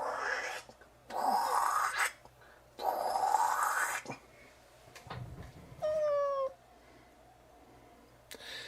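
A cat meows several times, with drawn-out loud wails and one short rising mew, separated by quiet pauses, fairly close.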